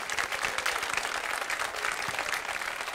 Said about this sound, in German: Einen riesen Applaus, vielen Dank.